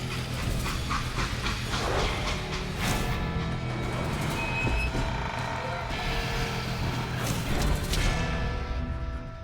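A steam train in the Western shooter Call of Juarez Gunslinger gives a steady, loud rumble with hissing steam and clattering wagons, unbroken for the whole stretch.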